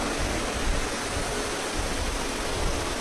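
Heavy rain pours steadily outdoors at a large religious gathering, a dense, loud, unbroken hiss with no voices heard.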